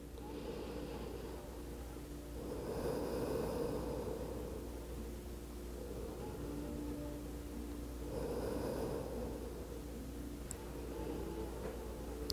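Slow, deep breaths are drawn in and let out during a yoga pose, two long airy cycles heard close up over a steady low hum.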